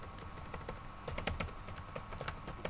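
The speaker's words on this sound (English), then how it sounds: "we'll just finish typing this out" Keys clatter on a computer keyboard in quick, irregular bursts of light clicks, close and fairly quiet, with no voices.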